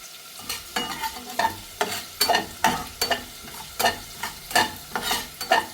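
Coriander seeds dry roasting in a hot kadai are stirred in a steady rhythm, about two scrapes per second, each a crisp rattling sweep close to the microphone with no talk.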